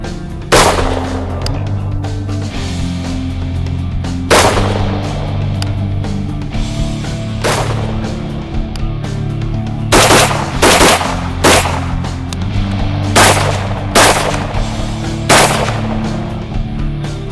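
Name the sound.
rifle shots fired at a target about 110 yards out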